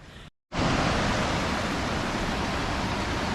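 Water of the Tooms River rushes steadily in a broad, constant roar close by after a brief cut to silence near the start.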